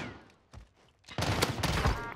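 Gunfire in a shooting video game: a couple of isolated shots, then a loud, sustained burst of rapid shots with sharp cracks that runs to the end.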